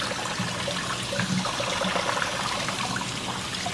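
Tap water runs steadily over a kitchen gadget being washed, a close, continuous splashing rush with small irregular spatters and no talking.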